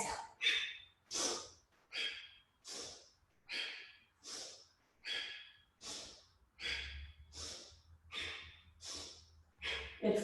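Rhythmic, forceful breathing during a vinyasa yoga flow, about a dozen sharp inhales and exhales in a steady quick pulse, close and loud with no talking.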